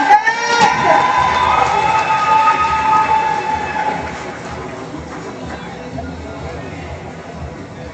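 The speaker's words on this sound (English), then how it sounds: "Give her a big round of applause" Applause mixed with cheering from a graduation ceremony audience at a technical high school, loud and continuous from the first second and easing slightly toward the end.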